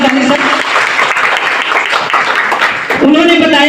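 Loud, sustained applause from an audience at an RCM business talk fills most of the moment, then a voice comes in near the end as the clapping fades.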